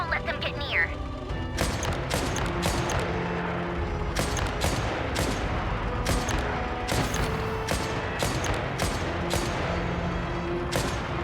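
Rapid bursts of gunfire and explosive blasts crackle through a Genshin Impact battle, dense repeated shots and booms layered over continuous game noise and music with voices underneath.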